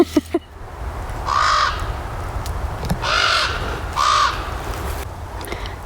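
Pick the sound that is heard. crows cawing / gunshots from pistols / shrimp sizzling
crows cawing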